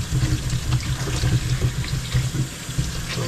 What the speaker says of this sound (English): So I'm gonna rinse them off.